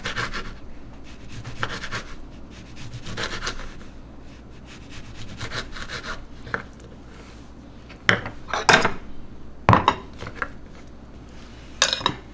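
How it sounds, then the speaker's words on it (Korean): A knife thinly slices vegetables on a board for a salad, with soft continuous rubbing and scraping broken by a few sharper, louder chopping knocks toward the end, no voices. "샐러드에 먹을 거니까 조금 얇게 이렇게 썰어 볼게요."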